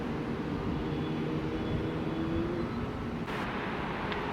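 An airliner taxiing at an airport gives a steady, distant engine drone and rumble that holds evenly throughout, with no talking.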